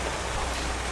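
Heavy storm rain pours down outdoors in a dense, constant rush, loud and unbroken, with no voices.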